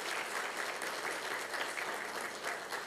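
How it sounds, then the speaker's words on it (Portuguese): Assembly at a formal solemn session applauding a deputy, many hands clapping in an even, continuous patter that stays fairly soft and distant for about three seconds. "Eu peço uma salva de palmas ao deputado Marco Aurélio"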